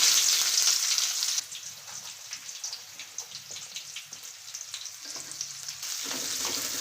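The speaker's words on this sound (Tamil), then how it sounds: "வரமிளகாய், வெங்காயம் வந்து நம்ம எண்ணெயில் வந்து சேர்த்து வச்சுங்க" Dried red chillies and onions fry in oil after fennel seeds and mustard seeds, a loud crackling hiss at first that settles into a softer, patchy sizzle with occasional stirring clicks.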